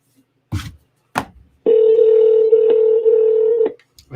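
Outgoing call to a personal phone: a single long, steady ringback tone lasts about two seconds, loud and close, with brief soft clicks or breaths just before it and a short sound after.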